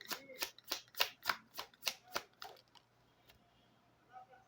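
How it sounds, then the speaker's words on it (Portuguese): Tarot cards shuffled by hand in a quick run of about eight crisp riffling bursts, then a softer draw and a faint card snap near the end, close and fairly quiet. "Eu vou tirar as cartas"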